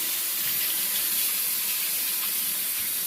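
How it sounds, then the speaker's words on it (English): Hands are rinsed under a running kitchen tap, a continuous steady rush of water that stays even and close throughout. "I'm going to just rinse my hands real quick."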